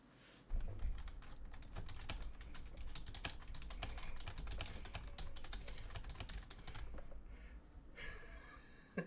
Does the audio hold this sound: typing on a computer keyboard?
yes